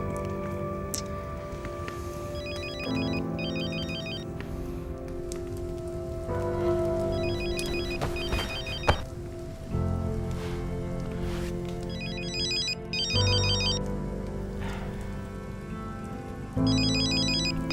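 Mobile phone ringtone in a German TV drama scene, sounding in short repeating bursts roughly every four seconds over a steady rain-like background hiss.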